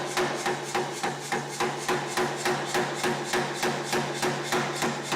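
A hammer beats a steel bar to taper it for bevel scrolls. Around a dozen sharp, evenly paced metallic blows ring out close and clear, with no talking.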